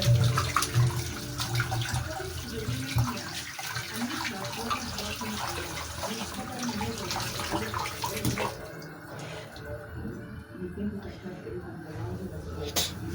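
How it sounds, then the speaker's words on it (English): Tap water runs steadily while hands are rinsed at a sink in a home kitchen, a continuous close splashing wash that holds through the clip and thins near the end. "Let's rinse our hands here."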